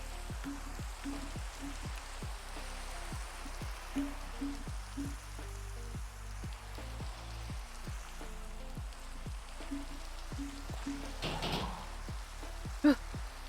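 Steady rain falls in a Minecraft world, a soft continuous wash of drops with a low repeating rhythmic pattern beneath it and a couple of brief louder spikes, with no talking.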